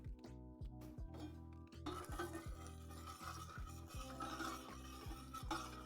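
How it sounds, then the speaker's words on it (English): A spoon stirs food in a metal pot on a stovetop, scraping and clinking against the sides in a steady repeated rhythm, close and fairly quiet, with a soft sizzle underneath. "Might be worth it to give this stuff a little stir"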